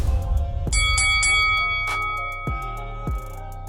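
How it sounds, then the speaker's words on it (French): Boxing bell in a ring clanging several times at the start of a bout, loud metallic strikes with long ringing tones that decay, no talk over it. "avant que la cloche retentisse"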